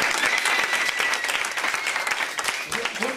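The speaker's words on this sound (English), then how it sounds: "Y'all clap your hands for that, man." A congregation at a church service claps together in a lively, close burst of applause that carries on for the whole moment.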